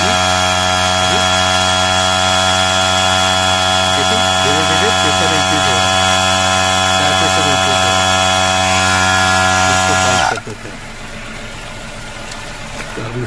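A Tata Motors tyre mobility kit air compressor switched on and running with a loud, steady motorised drone and hum, then cutting down sharply near the end, leaving quieter background noise.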